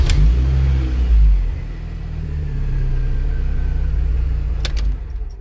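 Mini Cooper R53 engine idling steadily right after its first start on fresh rod bearings, a loud, close, even rumble with a brief click near the end and no talking.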